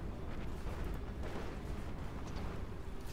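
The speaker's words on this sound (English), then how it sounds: "That's artillery coming in from extreme long range." Artillery shells from extreme long range landing in Planetary Annihilation: Titans, a continuous low rumbling barrage of muffled booms blending into a dense roar.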